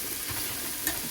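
Farm Boy andouille sausage fries in a pan, a close, steady hissing sizzle with one faint pop, no speech.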